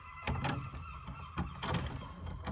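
Seagulls outside a shed in the UK call repeatedly with harsh, honking cries, several overlapping squawks at moderate distance over a steady outdoor hum.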